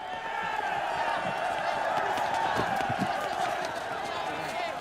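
Dense murmur of a large, jostling crowd at a train station, with overlapping voices and shuffling movement forming a steady, busy wash at moderate loudness.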